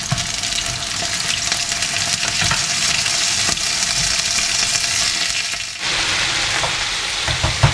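Food frying in olive oil in a pan, a loud, dense sizzle that crackles continuously with brief stirring knocks and a short dip before resuming, without any speech.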